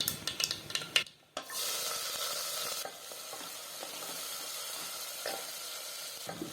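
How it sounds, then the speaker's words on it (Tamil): Chopped shallots and curry leaves sautéing in hot oil in a pan for a meal maker gravy: a loud, steady close sizzle after an initial burst of clattering as they go in, with faint scraping now and then. "இப்போ வெங்காயம் சேர்த்துட்டு நம்ம கருவேப்பிலை கொஞ்சமாக சேர்த்துக்கலாங்க. சேர்த்துட்டு இது ரெண்டுத்தையும் நம்ம நல்லா வதக்கிக்கலாம்."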